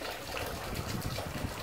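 Running water gushes and splashes steadily from a hose used to cool homebrewed beer wort outdoors, a fairly quiet, continuous wash of sound with no voices.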